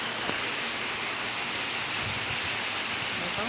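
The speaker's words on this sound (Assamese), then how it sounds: "বতাহও দিছে দেখোন।" Wind blows through steady rain, a smooth, even rushing wash of noise that holds at a constant level for a few seconds, with no voices.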